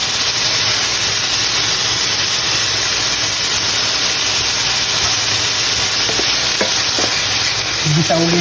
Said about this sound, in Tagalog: Igisa lang natin ulit ang ating mga ingredients kasama ng ampalaya at titimplahan na natin ito ng paminta at asin.